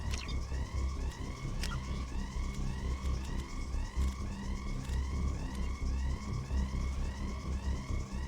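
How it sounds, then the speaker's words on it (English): A rising and falling siren from the game Mass Effect 2 wails continuously and steadily over a dense, busy game soundscape, loud throughout the whole stretch. "we listen to this amazing siren"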